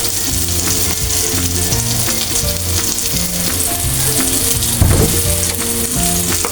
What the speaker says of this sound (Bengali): আপনারা এইভাবে বেগুনটা ভালো করে ভেজে নেবেন।